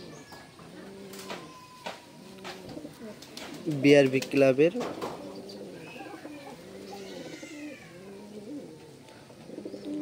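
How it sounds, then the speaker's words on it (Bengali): A twelve-race club racing pigeon coos in repeated low, rolling phrases at close range, with a louder burst near the middle, while someone talks over it. "এই হলো কবুতরটা,"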